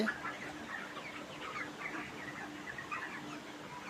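Thirty-day-old broiler chickens on a hot poultry farm cluck and chirp faintly as a crowd under a constant hum of running fans.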